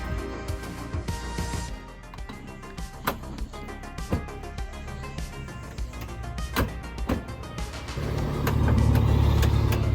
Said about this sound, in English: D16 Y8 VTEC motor. I guess intake. Headers, full exhaust. This is rowdy for a Civic.